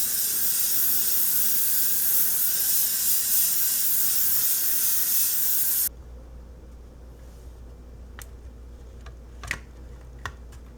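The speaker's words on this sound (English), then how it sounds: "I'm going to tint the entire model with a coat of buff color mixed with a little bit of white." Airbrush spraying a tint coat of buff paint mixed with a little white over a 1/35 scale Tamiya JS-3 model tank: a steady close hiss for about six seconds that cuts off, then a few faint clicks and taps.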